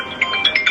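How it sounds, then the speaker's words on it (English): A phone ringtone plays a short, bright repeating melodic chirp, four quick tones in under a second, loud and close with no talking. "You gotta hear the ringtone."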